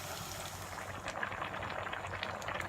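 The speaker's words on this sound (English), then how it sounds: "So here is the beans boiling." Beans simmer in a pot, liquid bubbling at a low, steady level, with soft popping throughout.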